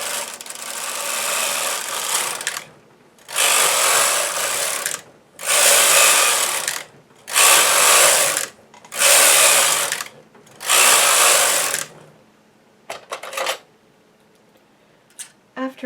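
A knitting machine running rows of dark pink scrap waste yarn while knitting a raglan sweater, about six steady whirring passes separated by short pauses, then a few faint clicks.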